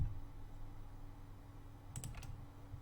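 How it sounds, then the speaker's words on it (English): Computer keys tapped on a quiet desk during 3D modelling work, with a soft low hum in the background and a quick cluster of two or three close clicks near the end. "just hit Alt and then right click."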